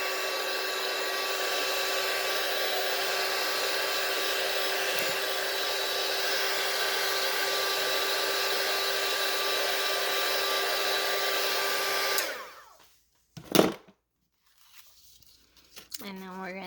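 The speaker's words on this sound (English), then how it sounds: "I'm just going to take my heat tool" A heat tool blows steadily while drying ink on a Stampin' Up Valentine's Day card, a loud continuous whir that cuts off abruptly, followed by a few brief clicks and rustles.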